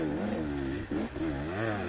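A Fantic 77cc motorbike engine revs hard during an extreme lap, its buzzing pitch rising, dipping briefly and climbing again, loud and close with no talk.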